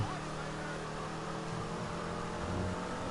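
A steady, fairly loud engine drone from the Enus Stafford car in Grand Theft Auto 5, droning low and continuous with a slight swell near the end and no talking.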